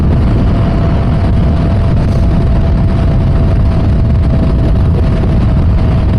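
Steady engine roar from a motorcycle being ridden near Lake Mead, a loud, constant low drone with wind rush and a faint whine running unchanged throughout, no talking.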